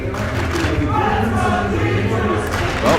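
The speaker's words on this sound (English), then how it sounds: "you heard a roar from the crowd" A crowd roars in an arena during a Rocket League esports world championship match, PSG Esports against G2 Esports. The broad, sustained wash of cheering holds steady for a few seconds and swells slightly at the end.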